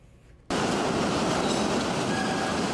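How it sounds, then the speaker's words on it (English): A train crosses Avon's old bridge, a century-old rail span, arriving abruptly as a loud, steady broadband roar of wheels and cars that holds constant and close for the rest of the moment, with no talking. "Train goes by, you will hear that."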